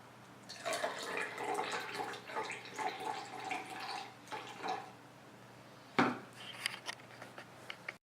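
Pink food-coloured water is poured into a container for a kitchen science experiment, making a soft continuous trickle and splash at close range, with a brief clink partway through and faint drips after.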